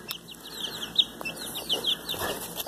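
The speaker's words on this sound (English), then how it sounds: "Look at this beautiful chicken." Chickens, including a rooster, cluck and chirp softly while eating Purina chicken starter feed, a busy scatter of short calls with faint pecking and rustling throughout.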